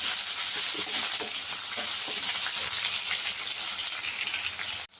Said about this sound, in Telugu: వెల్లిగడ్డ వేసిన ఒక నిమిషము అలా ఉంచుకొని అలా కలుపుకొని గరిటెతోటి ఈ యొక్క వెల్లిమిర్చిని